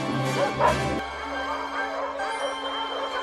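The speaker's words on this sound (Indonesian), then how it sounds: "Anjing di peternakan itu kemudian mulai menggonggong" A farm dog barks in short bursts of yips and woofs, with a whimpering tone, close and clear against a quiet background.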